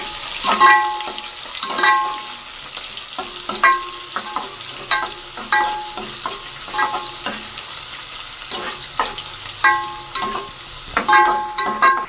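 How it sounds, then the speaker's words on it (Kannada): Chopped onions frying in hot oil with bay leaves for Sunday chicken biryani, giving a loud, steady sizzle broken by frequent scraping and clinking strokes of a spoon against the pan. "ನೆಕ್ಸ್ಟ್ ಈರುಳ್ಳಿ ಹಾಕ್ಕೊಳ್ಳೋಣ. ಈರುಳ್ಳಿ ಚೆನ್ನಾಗಿ ಫ್ರೈ ಆಗಲಿ."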